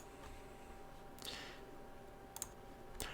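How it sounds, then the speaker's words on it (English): A few faint, quiet computer mouse clicks on a create account button, isolated taps spaced about a second apart over a low room hum. "Then just click on create account."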